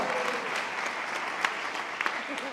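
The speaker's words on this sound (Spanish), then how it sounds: "un aplauso para él también, por favor" An audience applauds after being asked to clap for the speaker's partner at a Spanish-language metaphysics talk, a steady wash of many hands clapping throughout with a few sharper claps standing out.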